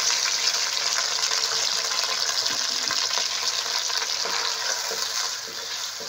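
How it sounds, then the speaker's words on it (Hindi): One large onion is dropped into hot oil in a wok for pea pulao, raising a loud, steady, close hiss of frying with a few soft stirring knocks, easing slightly toward the end, no voices. "ऑयल गर्म हो गया है। अब हम इसमें प्याज डालते हैं।"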